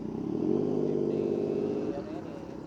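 An MT-09 motorcycle engine runs through a U-turn in the early morning, a close, loud, steady throbbing rumble that eases off briefly near the end.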